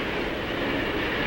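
A freight train rolls smoothly over welded ribbon rail in the 1950s, giving a steady, dense rumbling roar with no distinct clicks, continuous and fairly loud throughout the short stretch.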